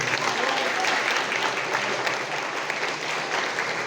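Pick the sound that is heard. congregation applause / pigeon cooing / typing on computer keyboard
congregation applause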